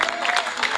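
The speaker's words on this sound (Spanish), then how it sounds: "Un aplauso para los chicos" Audience applause for children of a samba school performing at a spring festival: a dense, steady wash of clapping throughout the short stretch, with crowd noise and some voices mixed in.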